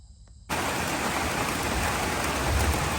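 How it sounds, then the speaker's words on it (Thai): Steady nighttime rain pours down, starting abruptly after a brief quiet moment and continuing as a dense, even hiss; no distinct cricket chirps stand out. "ฝนตกตั้งแต่สามทุ่มกว่าแล้ว"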